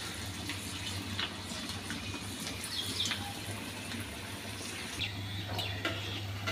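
Chopped onions frying in shallow oil over very low heat for mixed-lentil onion fritters, giving a soft, steady hiss and fine bubbling that runs evenly throughout with no talking.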